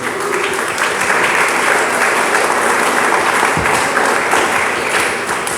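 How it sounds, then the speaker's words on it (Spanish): A church congregation claps loudly and steadily for God during a pastor's sermon, a dense close wash of many hands with a brief sharp thump near the end. "Dele palmas al Dios del cielo."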